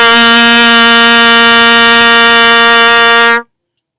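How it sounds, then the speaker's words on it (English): Open-fingered trumpet C held as one long, steady, bright note for about three and a half seconds, loud and close, then stopping abruptly into silence. "And then last note has the same fingering as the first. This is C."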